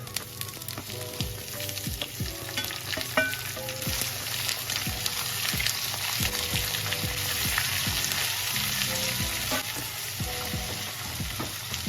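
Chopped onions fry in hot oil for a jackfruit curry, hissing in a dense, steady sizzle peppered with close crackles and pops for the whole stretch, with no voices.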